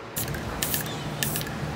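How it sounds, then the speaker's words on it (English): Three hissing bursts of spray paint from an aerosol can onto a wooden shelf, each lasting a fraction of a second, close by over a low background hum. "We're spray painting the shelf that goes above it."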